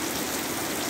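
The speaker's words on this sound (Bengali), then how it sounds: "দেখেন কত সুন্দর বৃষ্টিটা হইতেছে" Steady rain falling in rural Shariatpur with no wind, a soft even hiss of drops on surfaces that holds constant throughout, alone and moderately faint.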